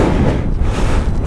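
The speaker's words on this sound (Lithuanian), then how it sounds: "Viską vėjas neša nahui." Strong gusting wind buffets the microphone high up on a 60-meter industrial chimney, a loud, dense, low roaring rumble with no let-up over a second or so.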